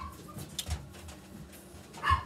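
A puppy gives a few short, separate barks and yelps at moderate distance indoors, with quiet background sound between them.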